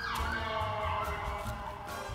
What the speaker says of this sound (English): Now that the ambulance has gone by.